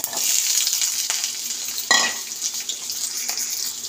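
Potatoes frying with dry red chilli and panch phoron in hot oil, a steady close sizzle with a few scraping stirs of a spatula against the pan, no talking.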